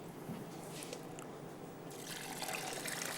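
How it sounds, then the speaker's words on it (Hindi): Water poured into a pot of strained lentils, a soft steady trickle that swells into a fuller, louder splashing rush partway through, close up with no talking. "पानी इसमें शामिल करेंगे।"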